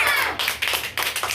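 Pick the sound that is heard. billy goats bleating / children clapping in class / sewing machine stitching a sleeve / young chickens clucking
children clapping in class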